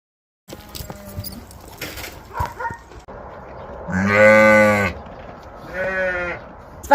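Sheep and lambs bleating loudly in a farm pen on vaccination day, two long drawn-out calls close by over a background of shuffling and clattering livestock noise.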